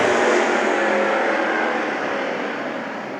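Spears Manufacturing modified race cars at Kern County Raceway on a slick track, a loud sustained engine roar close by that gradually fades, no talk.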